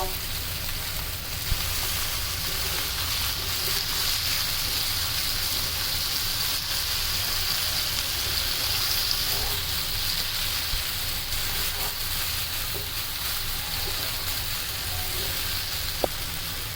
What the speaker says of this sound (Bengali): আমরা লতি ভালো করে মশলার সাথে কষিয়ে নেব